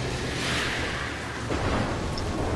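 Thunder from a lightning strike in the stealth video game Mark of the Ninja rolls as a steady, dense rumble that swells again midway through, loud and continuous with no speech over it.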